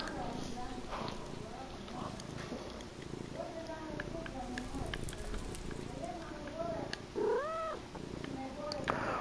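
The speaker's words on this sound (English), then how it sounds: "My cat was meowing" A pet cat meows several times indoors beside a Minecraft player, short rising and falling cries scattered across a steady background hum, one louder meow near the end, with talking alongside.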